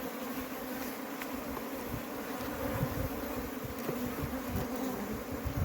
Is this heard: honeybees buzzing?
yes